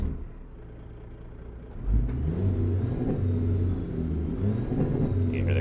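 A Freightliner truck engine in American Truck Simulator idles low, then rises into a deeper, steady rumbling drone that holds with slight shifts in pitch, no talking over it.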